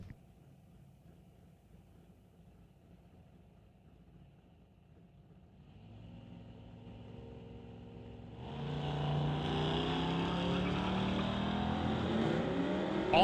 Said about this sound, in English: The Volkswagen Golf R out of West Vancouver, down at 12 seconds flat to race Carson Barlow in the 1970 C10.